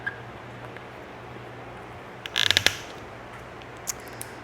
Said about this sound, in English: We're going to take the 2 short M5 screws and a 3mm hex wrench. We're going to screw that in here.